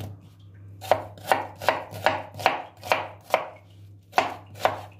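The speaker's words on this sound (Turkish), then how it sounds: "Evet, soğanlarımızı da doğradık." Knife chopping onions on a cutting board while cooking a Turkish chicken pan dish, with about ten sharp, evenly spaced chops close by over a steady low hum, and no talking.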